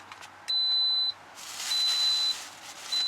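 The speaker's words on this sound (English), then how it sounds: "the little beep you heard means it's done" A pressure cooker signals that cooking has finished with a clear high electronic beep, then gives two further steady tones, all close and loud over a quiet room.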